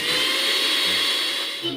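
A kitchen mixer grinder whirs steadily at close range, blending green chillies with tamarind water in a loud, continuous drone that eases slightly near the end.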